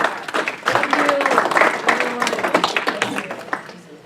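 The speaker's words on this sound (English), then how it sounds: "let's give a round of applause for Michelle Jordan" An audience gives a round of applause for a speaker about to address the room, the clapping dense and close at first, then thinning toward the end, with voices mixed in.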